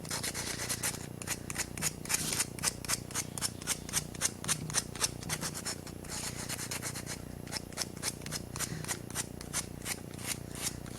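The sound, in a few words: sanding a paper mache sculpture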